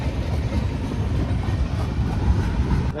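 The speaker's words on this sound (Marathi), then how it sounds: "आपली कोकण रेल्वे प्रवास पण एकदम व्यवस्थित चालू झालेला आहे" A Konkan Railway train runs at speed, a loud, continuous low rumble of wheels and carriages heard from close by, steady throughout without talking.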